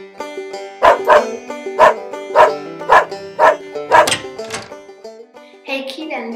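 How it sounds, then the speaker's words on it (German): Dogs at a family home in the USA bark close and loud, a run of about seven sharp, evenly spaced barks, followed by a brief stretch of softer yipping sounds. "Und das sind meine Hunde."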